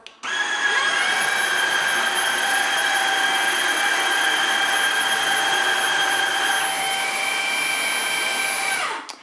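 A floor vacuum cleaner runs continuously on a living room floor, a loud, close, high-pitched motor whine with steady airflow hiss that starts abruptly, holds level for several seconds, then shuts off.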